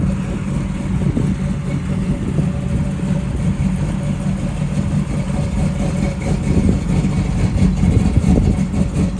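A 1968 Chevrolet Camaro engine idles steadily nearby, a deep continuous rumble with a slight rise in loudness toward the end, no voices over it.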